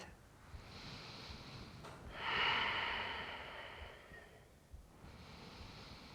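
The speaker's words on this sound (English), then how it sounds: "Breathe." A slow, deep breath during a yoga session, a soft airy inhale swelling and fading over a few seconds, near and quiet, with no talk.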